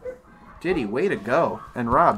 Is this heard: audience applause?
no